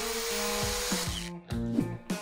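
Power drill driving self-tapping screws into a wooden bunk bed frame, with the motor whining in short bursts and pitch sweeping as each screw seats, followed by brief pauses.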